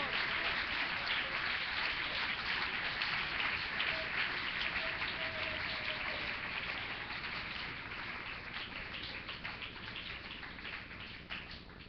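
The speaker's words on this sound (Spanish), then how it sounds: "Dele ese aplauso a la presencia del Señor" A church congregation applauds during an evening service in a Spanish-speaking church, a broad, fairly distant wash of clapping that holds steady and slowly softens, with murmuring voices faintly underneath.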